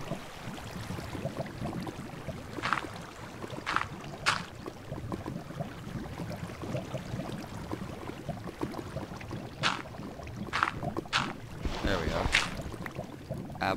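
Water flowing in Minecraft, a steady rushing wash that runs throughout, with occasional brief clicks and taps on top.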